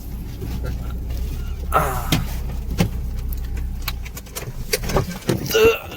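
Car being parked among trees at the Mhasa Jatra fair, with a low engine hum, clicks and rustles, then a couple of sharp knocks and shuffling near the end, while someone talks over it.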